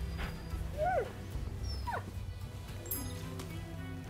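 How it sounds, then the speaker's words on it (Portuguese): Small dogs whimpering in the video game Rise of the Ronin, a few high, wavering whines and yips spaced apart over a low, steady game background. "Meu Deus, esses cachorrinhos são muito fofos."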